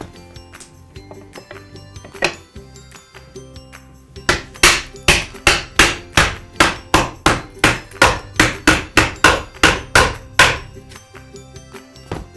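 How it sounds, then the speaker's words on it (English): A leg leveler insert is hammered into the leg of a Carrom foosball table, about twenty sharp, regular knocks in a quick steady rhythm, close and loud, following a few scattered earlier taps. "when you're pounding it down, you may see some debris come off"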